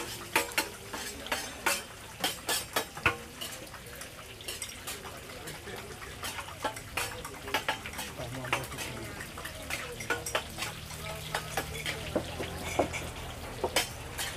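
Eggs fry in a pan at a busy food stall selling rice and eggs, with repeated clinks and scrapes of a utensil stirring and tapping against the pan over a low sizzle and background chatter.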